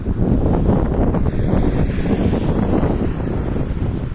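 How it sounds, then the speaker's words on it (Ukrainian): Steady rushing wind buffets the microphone throughout, a broad continuous roar with a faint patter of light drizzle mixed in, in the small town of Stellarton, Canada. "починає трохи більший вітер і дощ іде невеличкий"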